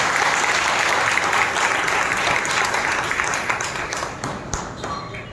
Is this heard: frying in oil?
no